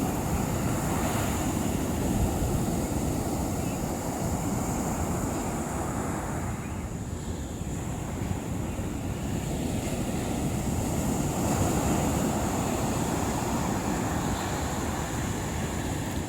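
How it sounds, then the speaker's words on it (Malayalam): Ocean waves surge on Kattadi beach in Alappuzha during rain, a continuous broadband roar close by with gentle swells in intensity and some wind noise on the microphone, no voices heard. "മഴയായത് കാരണം തിര നല്ലോണം കേറുന്നുണ്ട് കേട്ടോ."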